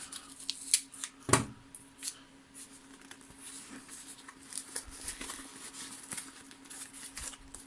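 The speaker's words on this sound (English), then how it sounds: "So I'm going to have to do a little bit of cutting with that." Scissors cutting tape during a Halloween DIY craft: one sharp, loud snip stands out early, followed by softer scattered snips, rustling and handling noises at close range with no talking.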